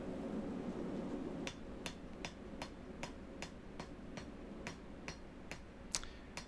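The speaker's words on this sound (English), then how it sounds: "The hammer's coming in with a diagonal stroke. It's a light stroke." Light hammer blows ring on hot metal pipe, about a dozen crisp, evenly spaced diagonal taps in a steady rhythm, close by, while forging a taper.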